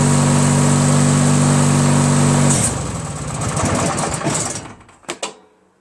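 A Briggs & Stratton opposed twin engine on a Craftsman DYT4000 lawn tractor runs at a loud, steady drone, then bogs down and stalls after about two and a half seconds, sputtering into a few fading coughs and clunks.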